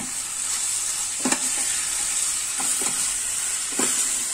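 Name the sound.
ridge gourd curry being stirred while cooking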